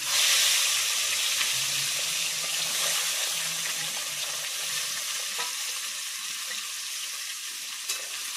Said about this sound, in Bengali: মাছের মাথাগুলো ভেজে নেব